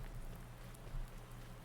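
Rain in Farming Simulator 19 falls in a soft, constant hiss over a low steady hum, with no voices.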